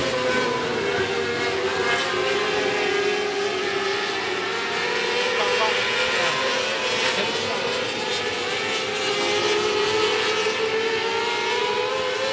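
A pack of race cars circles the 105 Speedway dirt oval in a continuous loud engine drone, several motors overlapping and shifting pitch as they race around, with faint voices underneath.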